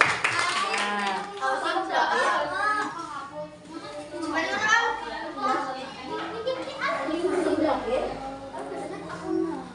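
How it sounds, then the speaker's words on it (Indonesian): A classroom group applauds group 4, a burst of many hands clapping amid excited children's chatter and voices, lively and close throughout. "Beri tepuk tangan untuk kelompok 4"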